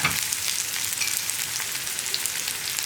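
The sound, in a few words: onions and curry leaves sautéing in a pan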